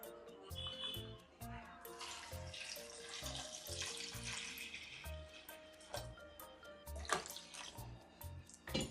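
Water pours into a pressure cooker holding pieces of elephant foot yam, a steady splashing rush in the kitchen under a voice and rhythmic background sound.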